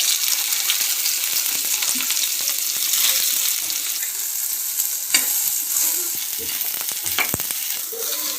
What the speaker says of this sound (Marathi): तव्यावर थोडं तेल टाकून सोयाबीनच्या वड्या फ्राय करून घ्यायच्या आहे